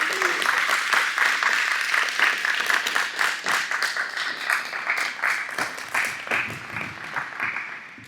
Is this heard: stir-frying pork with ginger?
no